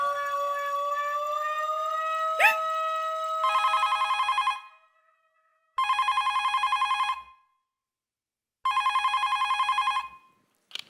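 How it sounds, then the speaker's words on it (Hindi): An electronic telephone ringer trills in three loud bursts with silent gaps between, following a sustained high tone and a brief sharp hit. "मैं डॉक्टर हाथी भाई को फोन करती हूँ।"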